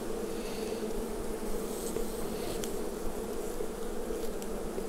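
Honey bees buzz around an open hive during a full beekeeping inspection, a steady, dense drone with no breaks, moderately faint and continuous throughout.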